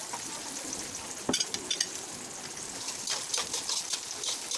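Garlic frying in a pan for Filipino balbacua, a steady close sizzle with a brief clatter and light stirring noises, no talking.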